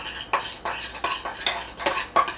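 A knife stirs thick peanut butter chocolate frosting in a bowl, making a close series of sticky scraping strokes at a steady, quick rhythm, with no voices.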